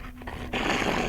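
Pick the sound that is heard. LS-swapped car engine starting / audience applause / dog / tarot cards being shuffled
dog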